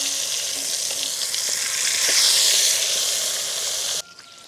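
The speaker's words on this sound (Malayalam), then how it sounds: "നമുക്ക് നേരെ നമ്മുടെ ചിക്കൻ ഇതിലേക്ക് ഇട്ട് കൊടുക്കാം. ചിക്കൻ നമുക്ക് ഹാഫ് ഫ്രൈ ചെയ്തിട്ടാണ് എടുക്കേണ്ടത്." Chicken half-fries in a pan for chicken pulao, giving a loud, steady sizzle that builds slightly midway and then cuts off abruptly near the end.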